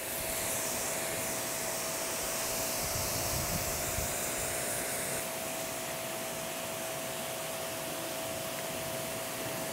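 Water sprays in a steady hiss as a car panel is rinsed in a detailing spray-wax test, an even continuous rush with no one talking.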